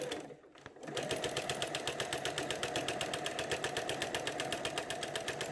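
A sewing machine fitted with a walking foot stitches a quilt, starting after a brief pause and then running in a fast, even, rapid-fire rhythm at close range.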